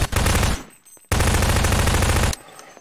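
Two loud bursts of automatic gunfire from the video game Prop Hunt, the first about half a second long, then a brief pause before a longer sustained burst of roughly a second and a quarter, with no talking.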